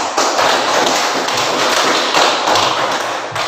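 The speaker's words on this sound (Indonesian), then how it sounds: "mari kita memberi aplaus pada kelompok 2" A classroom group claps in a steady, dense patter of applause lasting a few seconds, loud and close, with no talking over it.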